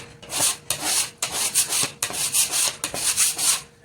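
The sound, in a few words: tool scraping dry clay dust off a cutting board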